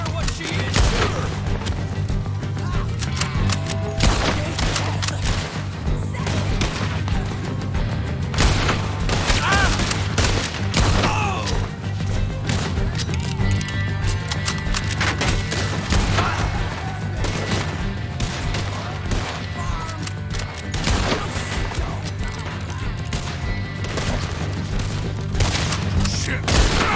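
Dense, continuous gunfire during a farm shootout in the video game Red Dead Redemption 2, rapid overlapping shots and booms throughout, with occasional shouted voices mixed in.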